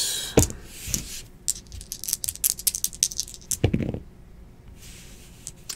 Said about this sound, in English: I'm going to roll dice.